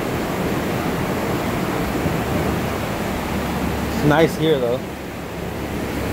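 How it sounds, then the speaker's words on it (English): A river flows in Fortuna as a steady broadband rush of water, close and continuous, with a brief spoken remark rising over it near the end. "We're gonna look at the river here in the Fortuna."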